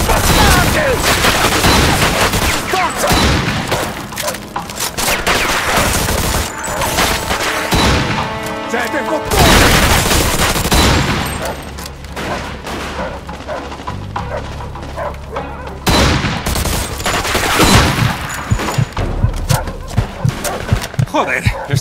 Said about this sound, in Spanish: hay más disparos